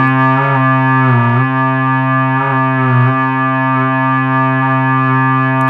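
A Minitmoog synthesizer holding a steady, harmonically rich tone with the pitch wheel at center, its sustained note slowly beating and wavering in loudness, with a few brief swells along the way; no one speaks.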